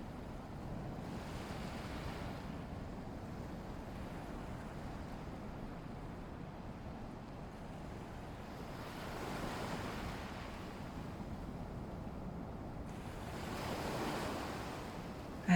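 Ocean waves washing in at a lagoon, a steady soft surf with gentle swells rising and falling, mixed with faint wind noise and no voices.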